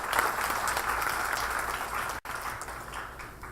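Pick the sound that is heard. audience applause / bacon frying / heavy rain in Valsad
audience applause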